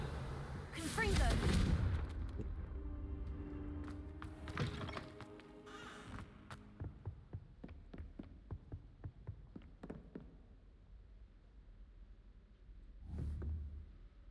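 A Confringo fire spell cast in the Hogwarts Legacy video game, heard as a loud explosive burst followed by a run of sharp cracking impacts and a later thump, with game combat noise around it.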